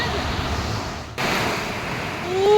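Steady broadband surf at Mandarmani beach, with the sea swelling high near a full moon. The roar is loud and continuous, dips briefly, then builds again toward the end.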